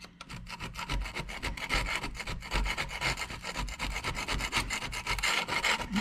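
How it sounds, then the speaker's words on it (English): A Phillips screwdriver scraping broken grout out of a tile joint, a rapid continuous rasping and scratching in dense strokes, close and fairly quiet, with no one talking. "Clean it off with a Phillips head screwdriver because it fits right in the groove."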